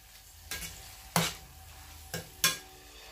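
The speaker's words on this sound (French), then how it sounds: "je mélange afin d'éviter que ça ne brûle" Cassava and carrots frying in a pan are stirred with a utensil, giving four sharp scraping strokes over a faint background sizzle, close by with no talking.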